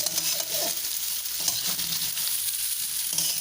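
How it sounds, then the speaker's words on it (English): Mutiya dumplings made with grated dudi (bottle gourd) fry in a pan with a continuous close sizzle. Soft stirring scrapes sound over the sizzle, with no talking. "Now, I have added the mutiya. For about 5 minutes, you need to fry like this."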